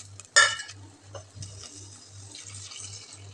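Onions, tomatoes and green chillies drop into a cooking pan with one sharp clatter, followed by a few soft knocks and stirring scrapes over a steady low hum.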